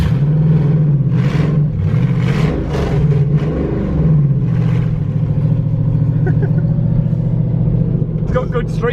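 A ModMax car runs on the road at 2,000 RPM in third gear, its loud steady engine drone rising and falling slightly while people talk over it inside the cabin.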